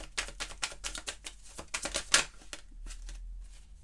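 Tarot cards shuffled and drawn by hand, giving a quick run of crisp, close paper flicks and snaps in an uneven rhythm that thins out into a softer slide and a few last taps.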